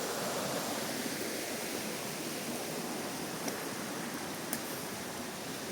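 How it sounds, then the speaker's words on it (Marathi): River water rushes steadily where two rivers meet at a confluence, a broad, dense, unbroken roar that sounds close and fairly loud, with no voices. "दोन नद्याचा संगम"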